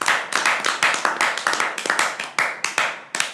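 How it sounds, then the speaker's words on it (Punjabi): A studio audience claps by hand in a brisk, uneven burst, the sound loud and close and running continuously with slight dips throughout. "ਉਹ ਯਾਰ ਤੁਸੀਂ ਇਹਦੇ ਕਹਿਣ ਤੇ ਵੀ ਤਾੜੀਆਂ ਮਾਰੀ ਜਾਂਦੇ ਹੋ"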